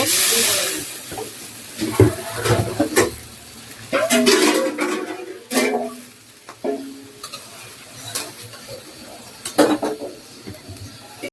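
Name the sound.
fish heads being added to lentil dal in a pot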